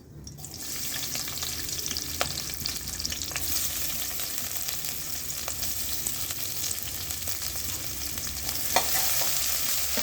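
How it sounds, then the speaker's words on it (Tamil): Onions and mint fry in oil in a pan for a chicken kulambu, producing a continuous, dense sizzle with small crackles throughout and no voices. "புதினா எல்லாம் நல்லா பொரிஞ்சிருச்சு. இப்போ வெங்காயம் சேர்த்துக்கலாம்."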